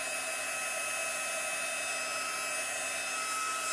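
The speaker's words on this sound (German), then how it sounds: "da wo es der Föhn erwischt hat" A hair dryer heats tiles, blowing as a steady, even whooshing hum with a high whine, constant and close throughout, with no voices.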